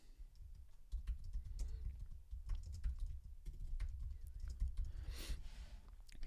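Quick, close keystrokes on a computer keyboard as a search is typed, a steady patter of light clicks running the whole time with no talk.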